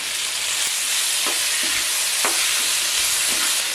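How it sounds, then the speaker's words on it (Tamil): Onion and tomato sauté in hot oil for an eggplant kuzhambu, giving a steady, close sizzling hiss with a few soft scraping stirs. "தக்காளி நல்லா குறைவாக எண்ணெயிலே வதங்கிட்டு முடிவு வச்சிடலாம்"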